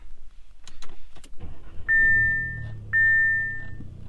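A few clicks, then two loud beeps as an Audi S3 engine with new spark plugs cranks and starts, settling into a low idle rumble.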